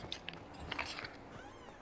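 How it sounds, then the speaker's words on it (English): Cats in a Hogwarts Legacy game scene give a few short, faint meows and chewing-like clicks at scattered moments, quiet against a soft ambient background. "Wow, cats everywhere."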